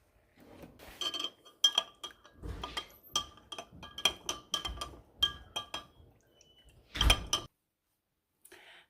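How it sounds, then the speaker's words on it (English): Elderberry syrup being stirred with added drops of ginger essential oil, a spoon clinking repeatedly against a glass container in quick, irregular taps, fairly close and with no talking. "And then we will mix that up."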